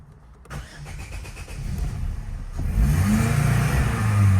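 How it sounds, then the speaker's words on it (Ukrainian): An Opel Vectra C engine cranks and fires up after a click, then settles into a rising idle with a low steady rumble, heard close in a workshop with no talking. "Машина буде газуватися тоді, коли я перезапущу."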